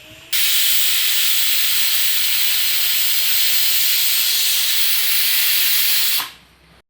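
Semolina idli (rawa idli) steaming in a covered pot, a steady loud hiss of escaping steam that holds evenly for about six seconds and then cuts off, with no talking.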